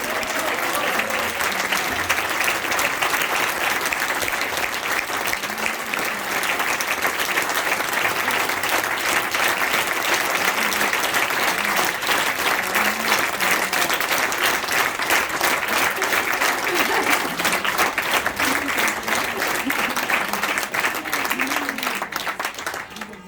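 An audience applauds steadily after a signed poem performance, dense sustained clapping from a full room that holds at an even level and tails off at the very end.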